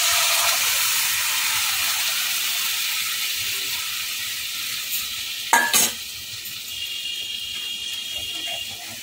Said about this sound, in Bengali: ওই কড়াইয়ের মধ্যে যে সামান্য একটু তেল গায়ের মধ্যে লেগে আছে তার মধ্যে এই মশলাটাকে দিয়ে দেবো।